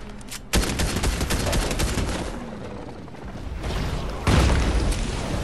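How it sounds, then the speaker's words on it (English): Rapid gunfire fills a Fortnite match, with dense, loud sustained bursts of shooting that start abruptly, roll on for several seconds and then surge again near the end, with no talk over them. "He's shooting stuff at me."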